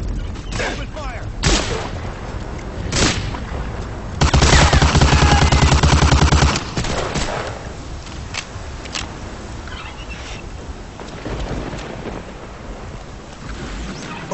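Gunfire in the Medal of Honor: Allied Assault WWII shooter, loud bursts and single shots cracking through a noisy battle scene, with a heavy sustained volley in the middle and scattered shots around it.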